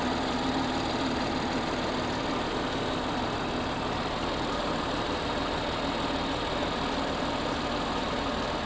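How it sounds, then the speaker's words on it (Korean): A BMW X6 (G06) xDrive40i engine idles at a steady, even rumble, close and unchanging throughout, with no speech. "엔진 소리 일정하네요"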